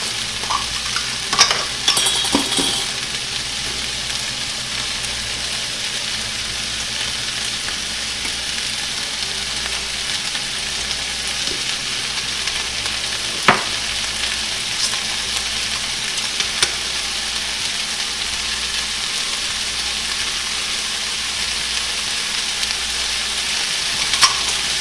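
Sausage frying in a pan, a loud, continuous close sizzle that holds steady for the whole stretch, with a few faint clicks and knocks of the pan now and then and no voices.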